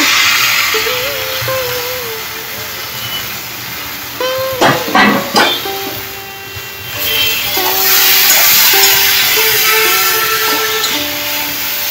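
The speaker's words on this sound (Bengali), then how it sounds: "এবার দেখো আমি সেদ্ধ করা তরকার ডালটা এর মধ্যে দিয়ে দেবো।" Boiled tarka dal poured into a hot pan while cooking a dinner recipe, producing a loud, steady steamy sizzle and hiss that swells, briefly breaks with clatter midway, then continues.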